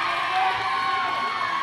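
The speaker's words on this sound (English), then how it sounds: "I mean, I think you can hear the crowd." A loud hometown crowd at a roller derby bout roars and cheers steadily, a dense wall of voices and whoops filling the hall from start to end.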